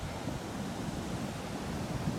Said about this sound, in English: And this is the retaining dam.